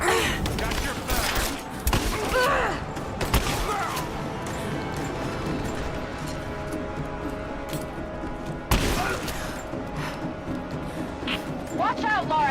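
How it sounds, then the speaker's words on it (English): Rapid gunfire bursts and heavy impacts crash through a firefight in Rise of the Tomb Raider, loud and close, with scattered sharp shots between dense volleys and voices shouting underneath. "Under fire! I'm under fire! Give me covering fire!"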